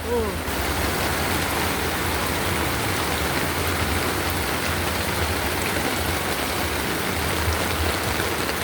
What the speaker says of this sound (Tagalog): Usok yung ulan.